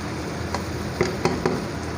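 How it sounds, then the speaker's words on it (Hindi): Okra with turmeric, red chilli and salt stirred with a spoon in a pan, a few soft scrapes and taps over a steady low sizzle. "और चम्मच चलाएंगे।"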